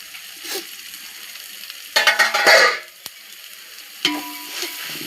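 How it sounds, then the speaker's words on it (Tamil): Ginger garlic paste sautéing in a pan for chicken dum biryani, heard as a quiet background hiss broken by sharp bursts of crackling sizzle and stirring, the loudest in the middle. "இஞ்சி பூண்டு நல்லா வதக்கணும்"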